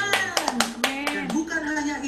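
A church congregation claps hands at a sermon, a handful of sharp irregular claps standing out over a sustained voice and tonal background.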